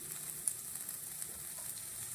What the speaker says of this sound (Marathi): परतलेल्या लसणामध्ये टाकणार कांदा. आता हा जो कांदा आहे हा आपल्याला छान गुलाबी रंगाचा होईपर्यंत परतवायचा आहे.